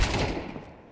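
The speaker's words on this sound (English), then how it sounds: "Actually, a no-scope headshot." A single sniper-style rifle gunshot in Counter-Strike 2 during a professional esports match, a sharp loud crack at the start that decays quickly into a fading tail.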